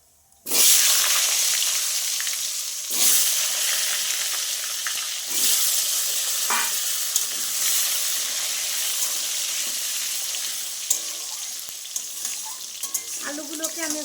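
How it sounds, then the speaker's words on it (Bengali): Diced potatoes fry in hot oil over spices in a pan, a steady loud sizzle running nearly the whole time with occasional stirring scrapes and clatters, no voices. "একটু ভালো করে লাল লাল করে একটু ভেজে নেব"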